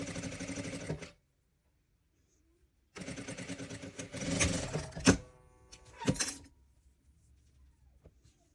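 A sewing machine stitches fabric pieces of a fox toy in two runs of close, whirring mechanical chatter, broken by a silent pause and followed by a few sharp clicks.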